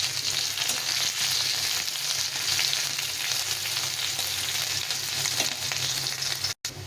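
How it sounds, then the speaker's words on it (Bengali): Onions fry in hot oil for a lentil tempering, a steady bright sizzle that runs unbroken and close, with a brief cut near the end. "পেঁয়াজটা একটু লাল লাল করে ভেজে নিতে হবে।"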